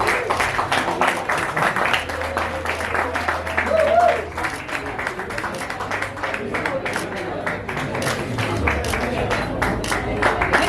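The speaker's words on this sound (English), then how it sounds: "Can we all clap, please?" Applause rises from the audience at a music launch event, steady crowd clapping lasting several seconds with voices talking over it.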